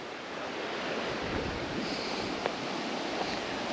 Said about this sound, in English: Look at this water flying past.